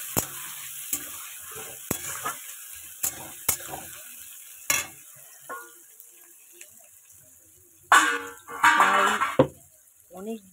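A halved tomato hits a hot pan and is lightly fried, giving scattered clinks and scrapes of stirring at first, then louder bursts of sizzling toward the end, with quiet gaps between.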